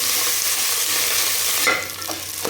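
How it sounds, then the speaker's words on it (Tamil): Onions frying with dried red chillies and curry leaves in a pan for tomato rice give a close, loud, steady sizzle that thins out near the end, with a few stirring knocks. "இதெல்லாம் வதக்கலாம் வெங்காயம் எல்லாம் வதங்கிட்டு தக்காளி போட்டுக்கலாம்"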